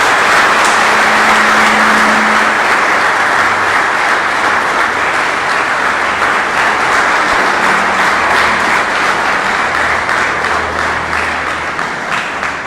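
Sustained audience applause at an end-of-year spiritual conference evening as award winners come forward, a loud dense clapping that rolls on for over ten seconds and eases slightly at the end, with faint low hum beneath.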